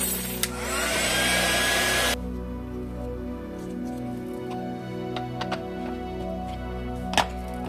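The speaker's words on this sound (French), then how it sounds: "je vais activer le séchage avec le heat gun" Heat gun drying Distress ink on a scrapbooking pennant, a loud close whooshing blower roar for about two seconds that cuts off, leaving a quieter hum with light tapping and clicks.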